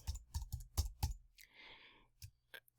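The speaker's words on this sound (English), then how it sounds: "I can click in the upper left-hand corner and I can type" Several quick keystrokes on a computer keyboard, clustered clicks at moderate level followed by a brief pause and a final tap, fairly close and quiet with no talking over them.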